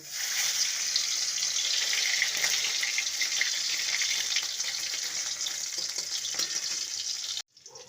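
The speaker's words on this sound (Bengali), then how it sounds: "কড়াইতে তেল দিয়ে দিয়েছি এবার ডিম ভাপাগুলোকে ভেজে নেব" Steamed egg cakes frying in oil in a wok, a steady close hiss and sizzle running unbroken for several seconds before cutting off abruptly near the end.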